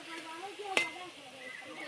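Taro leaf and drumstick leaf fritters frying in oil in a village kitchen, a steady soft sizzling hiss with one sharp metallic clink of a utensil partway through.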